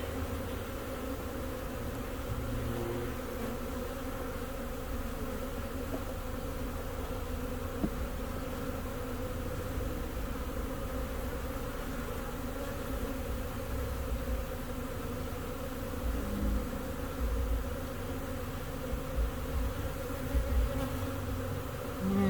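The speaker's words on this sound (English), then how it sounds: "And they are busy. They're busy bees." Honey bees buzzing around an open beehive during a spring hive inspection, a dense, continuous hum of many insects close by, steady and unbroken with no talk.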